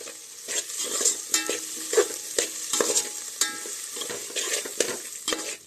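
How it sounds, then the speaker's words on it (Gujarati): Poha frying in a pan as potatoes and turmeric are stirred through it, a close run of repeated spatula scrapes and clacks over a light sizzle, rhythmic and fairly loud with no voices. "અહીં આપણે બટેકા નાખી દઈએ ભેગા. હળદર નાખી દઈએ."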